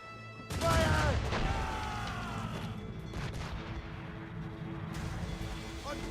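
Ship cannons boom in a volley during a naval battle in Assassin's Creed, a loud burst followed by sustained rumbling gunfire and crew shouts beneath a steady din.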